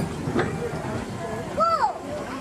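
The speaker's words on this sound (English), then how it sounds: "It's a choo-choo." Disneyland Railroad train passing in a theme park, a faint rumble with a brief whistle-like tone near the end, heard under nearby talk.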